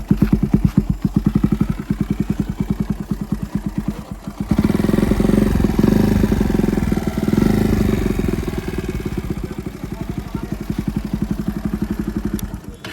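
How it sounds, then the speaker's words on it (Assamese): A motorcycle engine runs close by with a rapid, rhythmic putter, then revs up into a louder steady roar before settling back to a throbbing idle. "তোমালোকৰ বাইকৰ মই চাউণ্ডটো এবাৰ শুনাই দিছোঁ"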